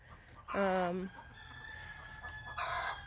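A rooster gives one loud, close crow, harsh and rising, followed by quieter background sounds of a chicken yard.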